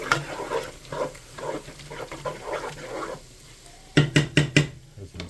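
Flour gets stirred into broccoli soup in a pan, giving soft repeated scraping and swishing strokes, followed near the end by a few sharper clinks of the utensil against the pan.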